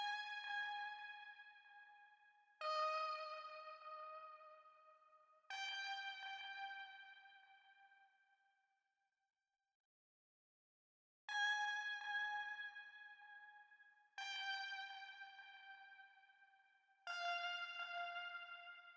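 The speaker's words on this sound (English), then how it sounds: "I used this dupe 8 sound that is just like a lead that sounds like this." A bright synth lead from a FL Studio trap beat plays sustained, slowly decaying notes in short phrases with a pause in the middle, rich in harmonics and standing alone.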